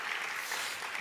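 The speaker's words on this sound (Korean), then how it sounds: "잘 다녀오라고 우리 격려의 박수 부탁합니다." A church congregation claps in encouragement after a prayer during a worship service, a brief burst of dense, even applause from a roomful of people, filling the space with no voices.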